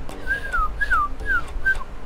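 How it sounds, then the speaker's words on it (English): A person whistles a short tune of four gliding, rising-and-falling notes, clear and close against a faint room background. "can you whistle?"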